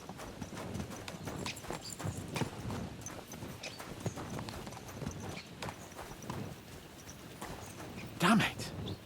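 Horse hooves clip-clop in a steady trotting rhythm in Kingdom Come Deliverance 2, close and clear over a bed of ambient noise, with a brief loud horse snort or whinny near the end.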